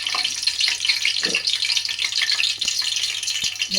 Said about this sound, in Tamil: கிராம்பு 2, ஏலக்காய் 2, மராத்தி மொட்டு 2, எல்லாமே 2 தான் போடுறேன்.